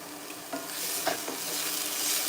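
Steak pieces for chili brown in a cast iron pan with a continuous hissing sizzle and a few soft stirring scrapes, close and fairly quiet, with no voices.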